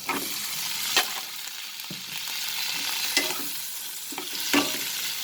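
Onion sautés over a low flame in a pan of mixed vegetables, making a soft, continuous sizzle. Several sharp scrapes and knocks from stirring stand out at intervals.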